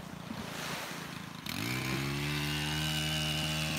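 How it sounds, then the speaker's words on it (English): A string trimmer starts up close by on a beach and then runs loud and steady with a droning whine. Surf noise is heard before it kicks in. "there's a guy weed whacking right here"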